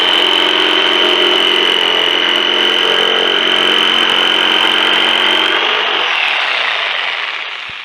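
A power saw fitted with a finishing blade runs loud and steady through a cut, a sustained high whine that holds for several seconds before the blade spins down and fades at the end.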